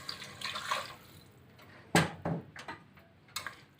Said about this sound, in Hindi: अब मैं 1 कप इसमें पानी का डालूंगी।